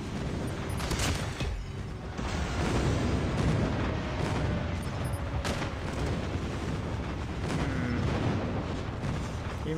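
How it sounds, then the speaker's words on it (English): In Call of Duty Mobile, an airstrike sets off dense, rumbling explosions and booms that keep up a loud, continuous roar, with a few sharper blasts rising above it. "Friendly airstrike incoming"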